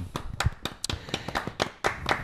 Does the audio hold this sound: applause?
yes